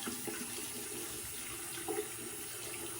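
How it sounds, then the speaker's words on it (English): Tap water running into a sink to wet a shaving brush, a steady close hiss of flowing water with a brief splashy swell near the end, no talk. "Get some water in my brush here."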